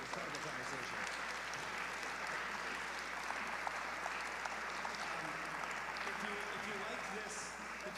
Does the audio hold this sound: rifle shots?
no